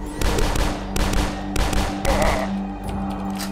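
Dual shotguns firing in the retro shooter video game Dusk, four heavy booming blasts at roughly half-second intervals, loud and close over a low steady hum.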